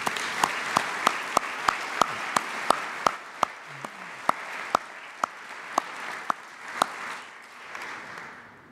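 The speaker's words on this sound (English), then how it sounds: "I think that deserves a round of applause" An audience at an oration applauds together, a sustained wash of many hands clapping in a hall, with sharper individual claps standing out at a steady pace before the applause fades toward the end.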